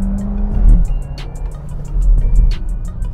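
A Skoda Karoq SUV with paddle shifters accelerating hard, its engine droning loud and close with rising revs over a continuous road and tyre rumble, without speech.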